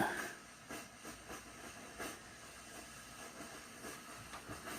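An old Svea 123 camping stove burns after decades of disuse, giving a soft, steady roaring hiss with faint irregular pops and ticks.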